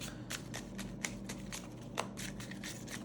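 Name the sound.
shuffling and drawing tarot cards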